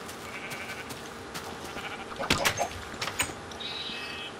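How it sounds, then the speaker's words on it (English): Minecraft sheep bleating, several short bleats clustered midway and another pair shortly after, fairly close over light game ambience with no talking. "See, look at that sheep."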